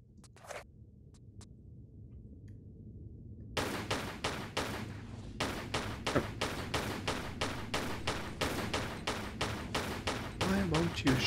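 Gunfire in Tomb Raider IV: The Last Revelation, a quiet stretch with a couple of faint clicks, then a long run of sharp, evenly spaced shots that grows steadily louder, with a voice talking faintly underneath at times.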